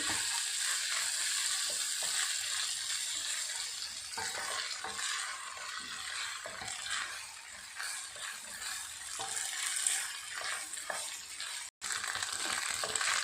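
Rice noodles stir-fried in a pan over high heat give a continuous loud sizzle, with scraping and tossing of the spatula breaking through now and then and one brief drop near the end.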